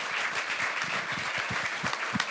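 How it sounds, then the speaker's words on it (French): An audience at a conference panel on future skills and work applauds the speakers with a short, steady wash of clapping heard from the room. "Et je pense qu'on peut encourager tous nos intervenants en les applaudissant."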